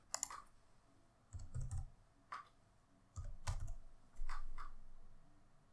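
A laptop keyboard is tapped to enter a verification code, giving short bursts of quick, light keystroke clicks with brief pauses between them, close-up and fairly quiet, with no voices.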